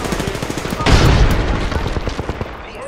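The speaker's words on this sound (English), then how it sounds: "The enemies are shooting." Enemy gunfire in a video game shooter, dense rapid bursts of close, loud automatic fire with a heavier burst in the middle, continuing as a steady crackle.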